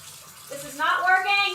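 Hot water runs from a kitchen tap onto a glass jar with a stuck lid, a brief rising gush and splash that builds loud and close.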